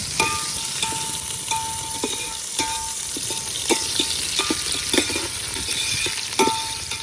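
Onions and curry leaves sizzle in hot oil for tempering, a steady close frying hiss broken by sharp spatters and occasional clicks of a spoon against the pan.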